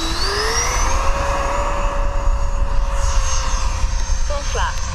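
A Freewing F/A-18C 90mm RC jet's electric ducted fan whines loud and steady as it spools up and takes off, its pitch climbing and holding, with a voice talking over it.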